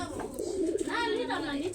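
Pigeons coo in a small loft of about six by ten cubits holding fifty to sixty birds, a soft rolling, warbling call rising and falling close by with a faint background hum.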